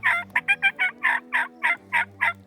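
A wild turkey gobbles in a rapid series of about a dozen loud, close, rattling notes, with another bird's lower call beneath, heard during a spring turkey hunt in Washington State.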